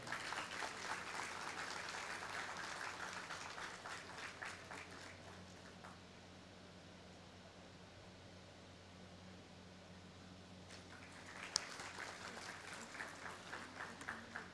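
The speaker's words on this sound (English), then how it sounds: "Let's have a big round of applause for him." An audience applauds at a graduation convocation ceremony at a government medical college in Gondia, the dense clapping heard from a distance, fading midway and then swelling again.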